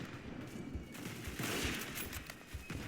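Light machine gun fire in a World War-era multiplayer shooter, a quiet sustained fusillade of rapid overlapping shots heard at a distance, with no talk.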